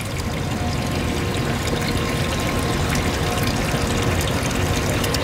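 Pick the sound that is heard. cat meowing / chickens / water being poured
water being poured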